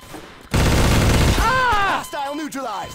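Burst of gunfire in the Garry's Mod game, a dense loud volley lasting about a second, followed by voices talking over fading shots.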